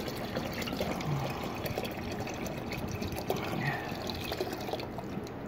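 Paint reducer is poured into a container of spray paint, making a faint, steady liquid trickle and glugging in a quiet room.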